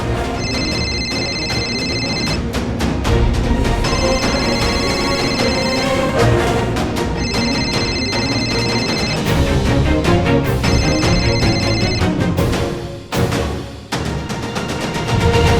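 A phone rings in repeated bursts with short pauses, steady and fairly loud over background music.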